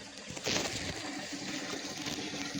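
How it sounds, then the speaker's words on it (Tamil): Water at a river source pours and flows steadily, a faint continuous splashing rush with a brief louder gush near the start and no talking over it. "ஸோ தண்ணி அங்கேயும் இங்கே ஊற்றுறது தான் அந்த சவுண்டு."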